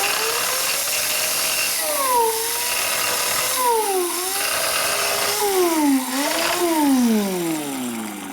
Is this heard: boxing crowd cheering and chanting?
no